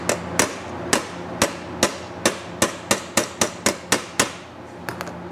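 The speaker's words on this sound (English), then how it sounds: "we can do a little bit of tapping on it to get alignment at some of the other spots" A hammer taps tack-welded sheet metal into alignment on a gas tank being made, about sixteen sharp metallic strikes at a steady, slightly quickening pace, close and clear, with no talk.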